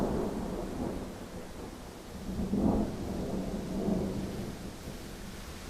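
Steady rain falls with low rolling thunder that swells twice, a heavier rumble near the middle and a softer one toward the end, over a constant wash of rainfall.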